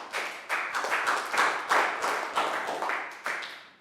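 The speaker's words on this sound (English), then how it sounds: "Big round of applause for Pat," Schoolchildren in a Year 3 maths class clap for a classmate. About ten fairly distinct claps form a quick, uneven rhythm at moderate volume, close by, with no talking.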